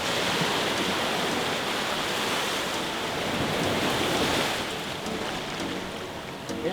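Fast-moving water rushes beneath a rope crossing strung from a tree, a loud, dense, continuous roar heard close up and steady throughout, with no speech.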